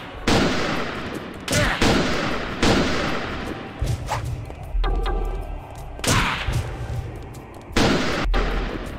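Sniper fire in Second Sight, loud repeated gunshots in bursts with cracks and booming reports, spaced a second or two apart, over game ambience and a brief voice mid-clip.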